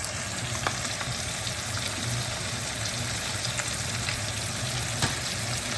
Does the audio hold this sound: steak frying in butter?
yes